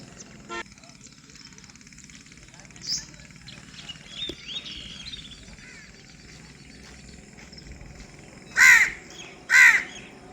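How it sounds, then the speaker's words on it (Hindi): A crow gives two loud, harsh caws near the end after quieter outdoor background with faint bird calls and a brief voice. "ये कौवा इंतज़ार में खाना खाने के"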